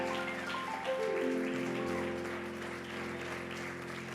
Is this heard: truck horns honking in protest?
no